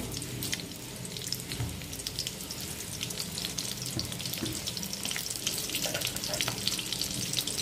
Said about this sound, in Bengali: এবারে ওই তেলেই আমি আলুগুলো ভেজে নেব